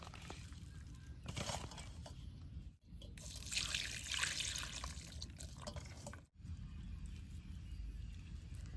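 Water trickling and splashing while jackfruit rind is rinsed clean, a close, continuous dribble with brief pauses where the flow stops, with no talk over it.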